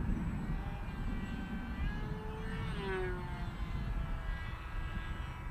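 A Ranger G2 RC airplane's electric motor on a 4S battery whines steadily at reduced throttle in windy outdoor conditions, its pitch sliding up and then back down while wind noise rumbles underneath throughout.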